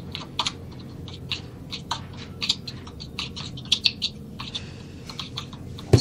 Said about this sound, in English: I'm typing your quotes.